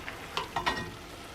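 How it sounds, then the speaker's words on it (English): Vegetables stirred in a cooking pot: a few short scraping, clattering strokes over a soft sizzle, close and fairly quiet, no voices. "So go ahead and get this stirred up."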